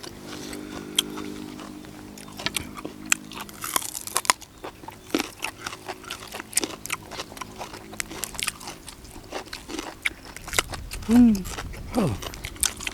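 Someone chews crunchy food while eating larb with banana at a rustic home meal, with close, uneven crunches and bites over several seconds and a voice briefly speaking between them.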